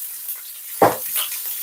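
Onion hits a hot pan for a beef stir-fry with a sudden sharp burst of sizzle, settling into a softer crackling hiss afterward.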